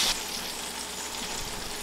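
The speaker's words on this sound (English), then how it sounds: "You hear that sizzle?" Bacon sizzles in a frying pan with a dense, continuous crackle and hiss, steady and close throughout, with no voices.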